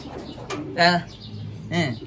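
A pigeon's soft coo comes twice at close range over a quiet background, with a faint click or rustle between the calls.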